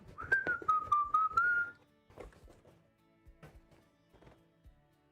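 A person whistles a short wavering tune up close while cleaning up a PC-building workspace, then the whistling stops and light clunks and shuffling of tidying follow.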